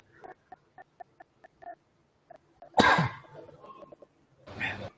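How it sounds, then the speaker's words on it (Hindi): A person's cough bursts out loud and close, with a throat-clearing rasp and a second smaller cough after it, breaking up an otherwise quiet indoor room with faint clicks before it. "खांसी आ रही है।"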